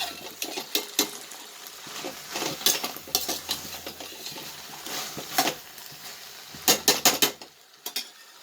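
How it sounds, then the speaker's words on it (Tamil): Shallots, tomato, drumstick, fenugreek, mustard seeds and curry leaves being sautéed for fenugreek onion kuzhambu, with spoon-on-pan scrapes and clinks in irregular bursts over a faint sizzle, close by, the clatter picking up near the end. "சின்ன வெங்காயம் தக்காளி முருங்கைக்காய் வெந்தயம் கடுகு கருவேப்பிலை அதெல்லாம் ஊற்றி எல்லாத்தையும் போட்டு வதக்கிட்டு இருக்கேன்"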